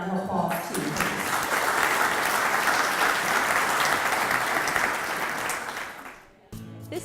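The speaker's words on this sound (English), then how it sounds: "So let's give them a round of applause too." Audience at a Celebration of Women event giving a round of applause for sponsors, a full, sustained wash of clapping that tapers off near the end as a voice resumes speaking.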